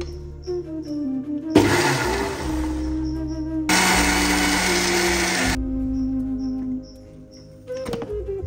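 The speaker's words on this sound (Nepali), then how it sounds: "अब पुदिनालाई मजाले पखालिसकेपछि मिक्सरमा थोरै पानी मिक्स गरेर पिस्ने" A kitchen mixer grinds washed mint leaves with a little water in two loud bursts of whirring, with quieter pauses before, between and after them.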